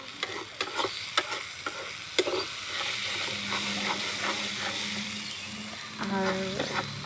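Dried chapa shutki fish frying with onion and chili in Mymensingh style over a village clay stove, a steady close sizzle with repeated scraping stirs throughout.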